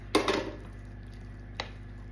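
Diced squash and onions dropped into a dish for squash dressing, two quick soft plops close together followed by a single lighter thud, against quiet kitchen hum.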